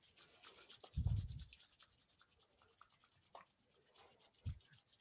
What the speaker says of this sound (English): If you're in a position where you can rub your hands together, do that.